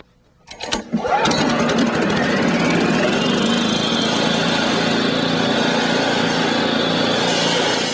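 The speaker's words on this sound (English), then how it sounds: "This power-driven masonry saw can be rented from your Cambridge distributor." A power-driven masonry saw for cutting paving stones starts up with a few sputters, then settles into a loud, steady engine drone that continues without a break.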